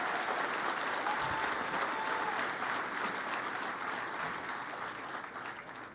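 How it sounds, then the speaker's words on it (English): A large outdoor audience claps at a university on-campus stadium groundbreaking ceremony, a dense, steady wash of applause holding for several seconds before starting to thin out. "Can we get another round of applause for the best president in the entire university system?"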